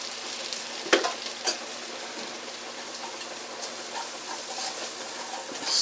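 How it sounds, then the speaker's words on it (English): Flour fries in bacon fat in a cast iron pan, giving a steady, close crackling sizzle that sounds rain-like, with a couple of scraping stir strokes near the start. "Stir that around"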